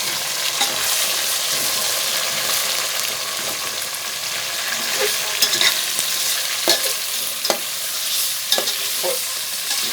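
Chicken frying with onions in a pan, a loud continuous sizzle with repeated scraping and clattering as the pieces are stirred, close up with no voices.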